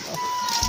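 A chicken gives a single short, fairly close cluck in an outdoor rural setting while coconut is grated the traditional way, with no voices over it.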